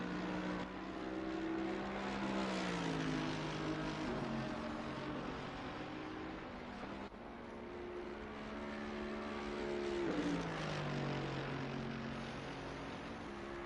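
A McLaren racing car runs down a track's back straight, a loud, sustained engine drone with harmonics sweeping up and down as it accelerates and shifts, close and steady throughout.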